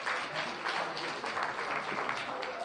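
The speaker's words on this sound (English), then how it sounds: "Everybody, big round of applause." Studio audience applauding steadily at a live comedy-style show as a guest is called up, a dense, even wash of clapping hands that holds loud throughout with no talk over it.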